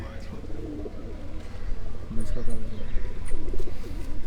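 Paired pigeons coo in soft, repeated phrases over a steady low background murmur, with people talking nearby throughout.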